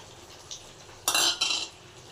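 Food stirred in a pan after chopped coriander is added: a soft tap of a utensil, then two louder bursts of metal scraping against the pan with a light sizzle underneath, quiet and close.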